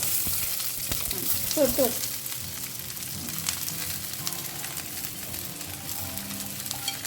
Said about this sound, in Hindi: भिंडी को ना अच्छे से फ्राई कर लेना है।